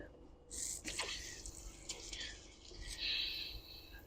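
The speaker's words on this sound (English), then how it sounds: "I'm going to open up the shower." Water runs from an RV shower faucet as it is opened, a steady hissing spray with splashing and dripping, fairly quiet and close, with no talking.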